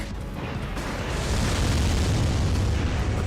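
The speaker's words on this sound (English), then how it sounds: "That's a crunchy ass PS2 explosion sound, if I've ever heard one." A dense, crunchy PS2-era Armored Core tank explosion roars out and keeps rumbling steadily, loud and close, with no voices.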